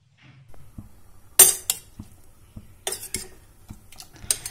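Ground coconut paste is stirred into cooked pumpkin and beans for erissery, an Onam sadya dish. A spoon clinks sharply against the pot in scattered knocks over a soft, low background.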